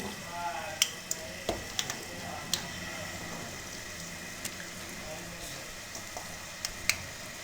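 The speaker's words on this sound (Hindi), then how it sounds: "कुकिंग ऑयल बहुत अच्छे तरीके से गर्म हो चुका है। अब आलूओं को इसमें हम फ्राई करेंगे।" Potatoes half-frying in hot cooking oil over a medium flame for crispy French fries, a steady soft crackle broken by a few sharp pops and clicks, alone without talk.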